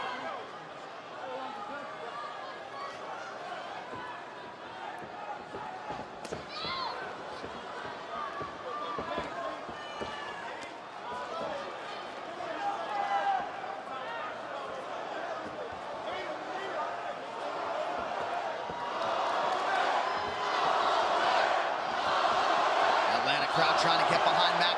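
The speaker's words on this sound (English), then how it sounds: "Crowd trying to get behind Max Holloway here." Fight crowd roaring in support of Max Holloway during the fifth and final round of his bout with Dustin Poirier, a dense sustained arena din that swells louder toward the end, with a commentator talking over it.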